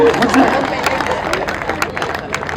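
An audience at a spiritual talk breaks into brief, scattered clapping mixed with murmuring and laughter from the hall.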